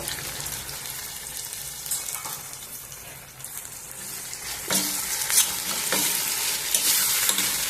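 Moth bean curry being stirred in a pan, a steady scraping and sizzling of frying food that grows a bit louder toward the end, with no voices.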